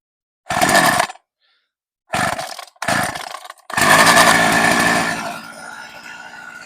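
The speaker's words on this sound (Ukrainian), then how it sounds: "Пилка зараз спробую завести" A chainsaw is pulled and sputters in short bursts, twice more briefly, then catches and roars loudly for over a second before winding down.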